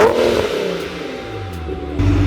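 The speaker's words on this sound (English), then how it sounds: "the blow-off valve is so loud. It's ear-piercing loud." A supercharged Infiniti G37X sedan revs hard and close up, the engine note falling away in a whirring decay before swelling again at the end.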